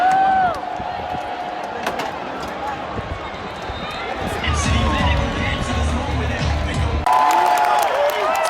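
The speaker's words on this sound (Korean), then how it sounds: "사람들이 환호하는 걸 보니 저희 팀이 득점했나봐요" A stadium crowd at a University of Illinois homecoming game roars and cheers after the home team scores, swelling into broad, loud cheering with scattered shouts partway through and building again near the end.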